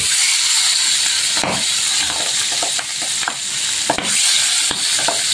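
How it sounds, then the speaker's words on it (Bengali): Pabda fish frying in hot oil gives a steady, loud broadband sizzle and hiss throughout, with occasional brief stirring or spatula clinks, and no talking. "সবগুলো মাছ আমি ভেজে উঠিয়ে নিয়েছি।"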